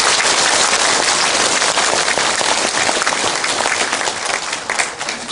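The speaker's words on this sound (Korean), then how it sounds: "이분들에서 다 함께 한 번 더 박수로 부탁드립니다" An indoor audience at a Korean security lecture rally breaks into loud, sustained applause, a dense wash of clapping that stays strong throughout and eases slightly near the end.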